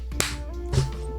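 A single sharp hand clap lands near the start, with a second softer hit shortly after, faint and close over a steady low hum.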